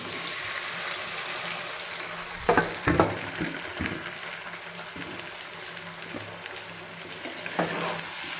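Potatoes with salt frying in a kadai for ghugni, a steady close sizzle with a few louder stirring scrapes and bursts, no voices.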